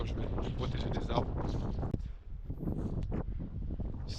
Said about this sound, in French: Il y a un sacré vent ici.